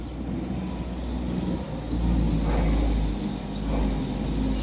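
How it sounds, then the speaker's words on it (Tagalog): A truck's engine rumbles as it approaches from a street corner, a steady low drone with a broad swell that builds in the middle and stays fairly loud throughout, with no talking. "Dito na yung truck. Naririnig ko na yung ugong."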